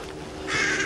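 A single crow caws once, a short harsh call heard outdoors over steady background noise.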